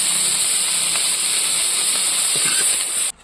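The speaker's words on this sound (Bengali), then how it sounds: "ব্রোকলিটাও আমি একটু শুধু লবণ দিয়েই ভেজে নেব" A loud, steady sizzling hiss of broccoli frying with salt in hot oil, continuous throughout with a few faint clicks, then cutting off abruptly at the end.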